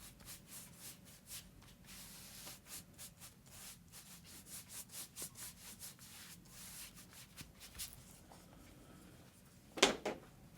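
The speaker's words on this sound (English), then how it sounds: "I'm going to go ahead and wet the paper first, just a little bit, just to get the sky wet up here" A brush wets watercolor paper for a sky in a crashing-wave painting, giving soft, repeated rubbing strokes across the sheet that stay faint and close, ending in a brief sharper scrape.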